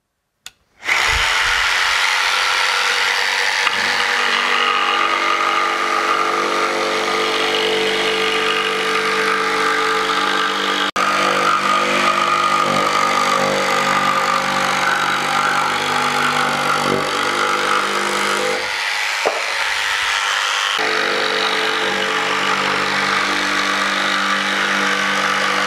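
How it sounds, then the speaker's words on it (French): A Mafell P1CC jigsaw cuts steadily up through melamine-faced board, a loud continuous buzzing rasp that runs almost unbroken for about twenty seconds with a brief dip near the end. "on va mettre la scie sauteuse sur le dessous."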